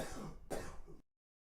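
Two harsh coughs in quick succession, close and fairly quiet, followed by silence.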